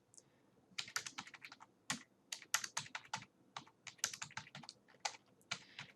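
Computer keyboard typing in short irregular bursts of crisp clicking keystrokes, close and quiet, with brief pauses between runs of keys and no talking.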